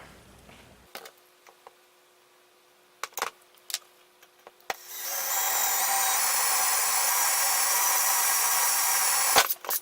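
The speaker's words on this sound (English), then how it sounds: "we're going to drill with the number 25 drill bit" A power drill bores into a Polaris RZR mount with a number 25 bit, running as a steady loud whine for several seconds after a few sharp clicks and taps, then cutting off.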